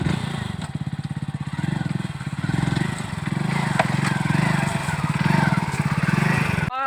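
A new motorcycle idles close by with a steady, throbbing engine pulse that holds throughout and swells slightly partway through.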